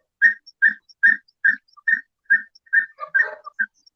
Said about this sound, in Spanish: acá voy a mostrar una botella silbadora de cuerpo simple.